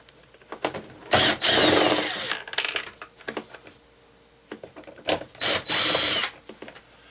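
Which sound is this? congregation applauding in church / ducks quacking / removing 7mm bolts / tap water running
removing 7mm bolts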